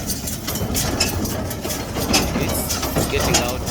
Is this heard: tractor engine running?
yes